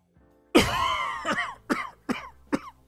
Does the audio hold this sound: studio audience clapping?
no